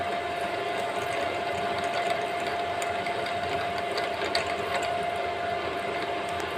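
Drill boring a bolt hole in a factory mould during maintenance, a continuous loud grinding whine over steady industrial machine noise with no pauses, close by.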